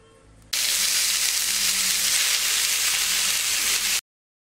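Chopped spinach (palak) goes into a hot pan used for green chillies and sizzles at once, a loud, steady frying hiss that starts abruptly and holds evenly for several seconds before cutting off, with no talk.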